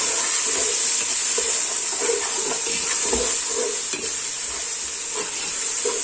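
Garlic, ginger and green chili paste frying in a pan for a lentil dal, a dense, continuous sizzle with soft scraping stirs throughout, close and steady.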